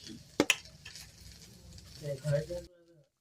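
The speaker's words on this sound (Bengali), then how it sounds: "দিয়ে ভালো করে মশলাটা কষিয়ে নেব।" A spoon stirs masala with poppy seed paste and water in a pan for a vegetarian eggplant dish. Two sharp metallic clanks are followed by soft sizzling and scraping, and a voice briefly murmurs near the end.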